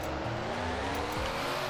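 In the Roblox game Greenville, an SUV speeds up toward top speed, its engine a steady, low, humming drone with tones gradually climbing under constant road noise.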